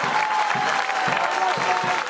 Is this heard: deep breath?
no